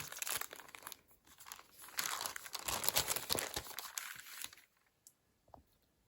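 A small paper envelope from a craft shop order is handled and torn open, giving soft crinkling, rustling and tearing bursts up close, busiest in the middle, then fading to quiet with a few light taps.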